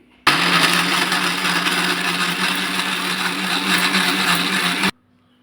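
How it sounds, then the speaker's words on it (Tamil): A kitchen mixer grinder whirs loudly and steadily for about four and a half seconds, blending dried red chillies, a green chilli, curry leaves, garam masala and turmeric, then stops abruptly. "வரமிளகாய் 2, பச்சை மிளகாய் 1, கருவேப்பந்தழை, கரம் மசாலா பொடி கொஞ்சம், மஞ்சத்தூள் கொஞ்சம், பச்சையாக போட்டு அரைச்சி எடுத்துக்கலாங்க."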